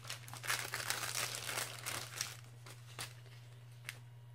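Paper flower craft supplies handled up close, giving crisp crinkling and rustling bursts that fade into a few sparse rustles over a steady low hum.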